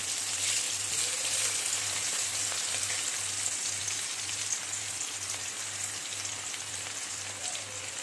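Chopped garlic and green chilli sizzle in hot oil, a steady hissing crackle like light rain that runs evenly throughout with a faint low hum beneath, close and uninterrupted.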